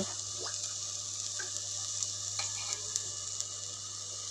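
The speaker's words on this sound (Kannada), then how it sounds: "ಈ ನೀರಿನ ಅಂಶ ಆಗೋಗೋವರೆಗೂ ಫ್ರೈ ಮಾಡ್ತಾನೇ ಇರಬೇಕು. ಮಧ್ಯೆ ಮಧ್ಯೆ ಈ ಥರ ಕೈ ಆಡಿಸ್ತಾ ಇರಬೇಕು ಇದನ್ನೇ" Fish fries in a pan with a constant close hiss and sizzle, while light scraping strokes of stirring come and go over the steady frying sound.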